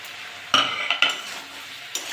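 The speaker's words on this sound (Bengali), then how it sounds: "ভালো করে কষে নেব।" Tomato being sautéed with small chuno fish, potato and eggplant in a pan: a soft background sizzle broken by three or four sharp spatula scrapes and stirs, close and fairly loud, with no talking.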